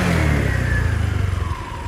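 A 2013 Honda PCX150 scooter with a fuel-injected 150cc engine revs loudly up close, its pitch rising and falling in a smooth whir with no voices.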